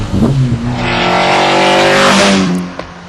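A TVR Cerbera sports car engine revs hard and loud, its deep rising and falling roar holding steady for nearly three seconds before easing off, close by with no talk.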